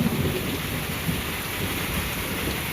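Thunderstorm in Victoria, Australia, heard as steady, heavy rain hissing on surfaces with a low thunder rumble running underneath throughout, loud and continuous, with no voices.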